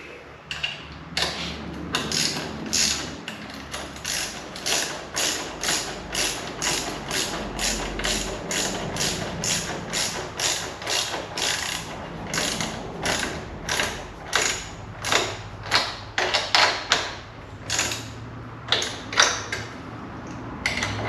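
A ratchet tightens exhaust bolts with a 13 mm socket on a 2022 Honda CB650R during a Black Widow exhaust install, giving a long run of close, rhythmic clicking bursts.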